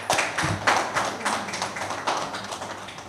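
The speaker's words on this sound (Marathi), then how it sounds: "सरांसाठी एकदा जोरदार टाळ्या होऊ द्या" An audience at a Marathi lecture on Annabhau Sathe claps for the speaker in a burst of fairly loud, uneven hand claps. The clapping stays steady through the stretch and slowly thins toward the end.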